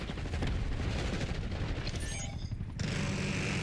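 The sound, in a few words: enemy sniper gunfire in Black Ops 6 video game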